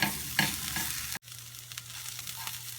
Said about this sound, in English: I like to fry them up a little bit with whatever I'm cooking and brown up the sides